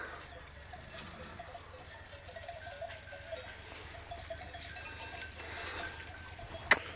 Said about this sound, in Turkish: Koyunlar gidiyor öyle.